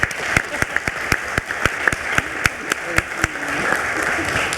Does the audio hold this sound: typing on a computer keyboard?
no